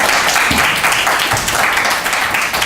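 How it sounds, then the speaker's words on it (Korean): A lecture audience at an archaeology seminar applauds to welcome a presenter, full, loud clapping from many hands heard throughout the short stretch without pause. "자, 큰 박수로 많이 해주시기 바랍니다."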